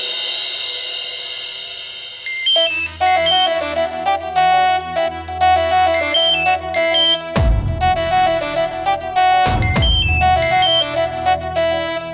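A telephone ringtone plays a repeating electronic melody, loud and continuous, with a couple of brief sharp bursts partway through.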